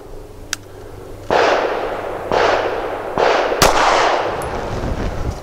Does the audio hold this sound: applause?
no